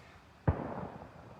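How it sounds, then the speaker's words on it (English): A single distant gunshot or firework outdoors in a park, one sharp faint pop followed by a short, fading rumble. "I don't know if you hear those shots in the background."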